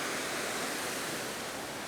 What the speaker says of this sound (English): So we've got a man-made weir